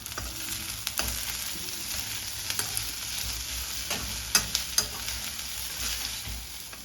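Crispy fried corn is tossed with pepper powder in a pan, giving a bright continuous sizzle with a few sharper scrapes and taps of the spatula near the end.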